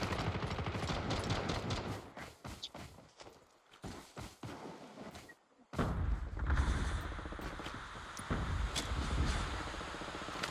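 Bursts of sniper and other gunfire in Call of Duty Mobile crack repeatedly, some sharp single shots and rapid volleys, followed by a dense stretch of continuous firing and rumble.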